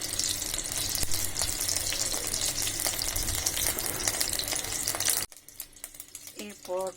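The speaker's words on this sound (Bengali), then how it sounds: "প্রথমে আমি ফ্রাই প্যানে হাফ কাপ তেল দিয়ে দিচ্ছি।" Cooking oil poured into a frying pan gives a steady, bright sizzle and splash for several seconds, then stops abruptly, leaving quieter kitchen sounds and a few brief voices.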